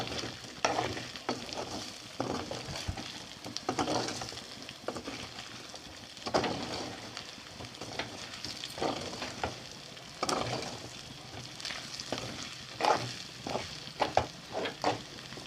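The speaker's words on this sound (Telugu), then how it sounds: "చాలా చక్కగా ఫ్రై అయిపోయింది చికెన్" Spicy chicken fry sizzles steadily in a pan while a spoon stirs and scrapes it in repeated close clatters over the continuous frying hiss.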